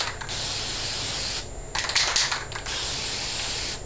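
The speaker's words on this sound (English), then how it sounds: "So you just lay it flat, and then you just spray it all the way around." An aerosol can of spray paint sprays in long hissing bursts with short pauses between them, coating a picture frame laid flat, close by and fairly loud.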